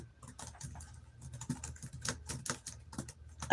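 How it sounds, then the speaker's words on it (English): Rapid, uneven clatter of fingers typing on a computer keyboard, close and fairly quiet, with clustered keystrokes and a few louder taps and no voices. "I'm actually typing it in right now."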